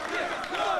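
Wrestling crowd at an indoor independent show cheering and roaring for a bloodied wrestler, a brief dense burst of voices.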